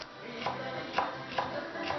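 A knife chops carrots for Korean chicken dumplings, giving faint, evenly spaced taps about every half second on a quiet background.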